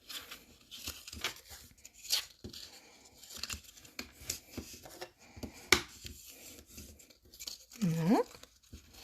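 Paper or cardstock being creased into folds for a rounded box: a series of short scraping and rubbing strokes with soft crinkles, close and fairly quiet, with brief taps between them.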